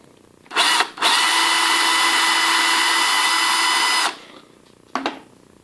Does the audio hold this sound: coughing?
no